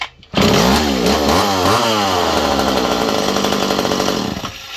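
An old McCulloch Mac 1-10 chainsaw fires up with one pull and revs loud and close, its pitch swooping up and down through several throttle blips before settling into a steady high whine.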